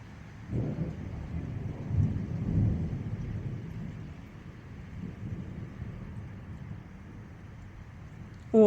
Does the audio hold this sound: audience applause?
no